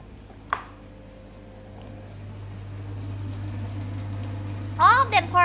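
Food fries in hot oil for a second round of frying, a steady low sizzle that swells and then holds, with a sharp tap early on and a voice speaking near the end.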